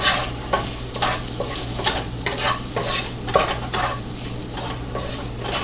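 A breakfast mixture seasoned with salt and pepper is stirred in a sizzling pan, with a steady frying hiss under repeated scraping strokes of a utensil, close up and with no talking.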